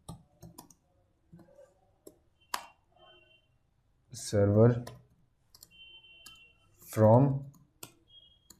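Scattered clicks from typing code on a computer keyboard come in short bursts and single taps, close and crisp, interrupted by two brief spoken words.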